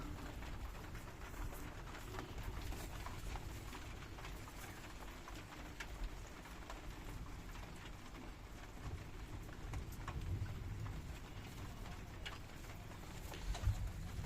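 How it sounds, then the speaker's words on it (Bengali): Giribaz and racer pigeons in a loft, faint soft cooing scattered over a steady low rustle and patter, with no voices. "আমার কাছে গিরিবাজ আর রেসার কবুতর আছে আর এক জোড়া আছে ব্ল্যাক হোমা"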